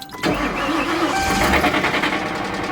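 A police car engine with a blown engine cranks and catches, then runs with a rough, rumbling idle close by.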